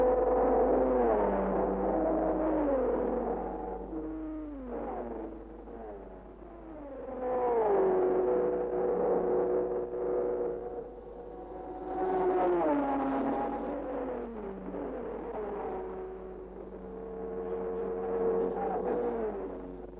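Period race cars at the 1959 Le Mans 24 Hours, Ferraris, a Jaguar and Aston Martins, roar past one after another, with engine notes swelling and fading as each car goes by, somewhat distant and muffled.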